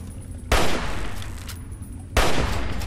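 Two loud hunting rifle shots in Fallout 3 ring out about a second and a half apart, each followed by a rumbling echo over a steady background.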